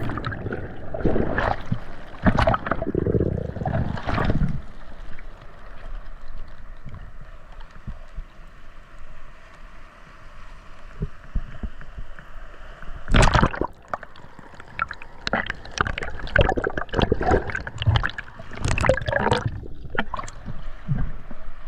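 Sea waves slosh and surge around a diver being carried onto rocks, with broadband water bursts and gurgling that swell and fade, loud and close throughout.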